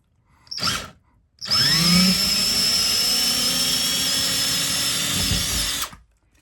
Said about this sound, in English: go up at an angle and drill a small hole